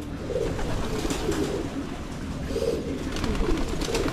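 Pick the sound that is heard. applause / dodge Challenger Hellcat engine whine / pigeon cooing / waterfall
pigeon cooing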